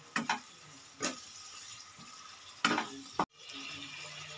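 Spices with turmeric stirred in a pan for a Bengali fish curry, a faint low sizzle broken by a few sharp scrapes and clinks of the spoon.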